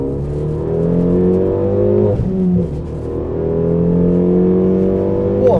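A Renault Megane RS Cup car pulls hard from inside the cabin, its engine note rising in steady sweeping climbs broken by a quick dip as it shifts gear, loud and smooth with no talk over it.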